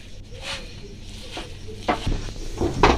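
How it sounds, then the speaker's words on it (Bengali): Sugar being stirred into a grape mixture in a pan, giving a close scraping and sloshing with soft sizzling, irregular strokes growing louder toward the end. "এবার ওই চিনিটা আমি ভালো করে এর সঙ্গে মিশিয়ে নেব।"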